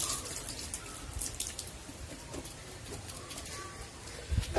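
Homemade liquid hand sanitizer is poured from one container into a spray bottle. It makes a faint, thin trickle with scattered drips over low background noise.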